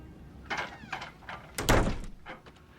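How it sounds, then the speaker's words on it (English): An indoor door swings shut in an office with a few soft bumps and a heavier closing thud, fairly quiet and with no talk. "close the door"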